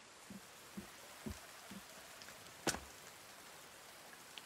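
Light rain patters in the survival game The Forest, a soft background hiss punctuated by several distinct drop-like taps and one sharper crack, with no one speaking.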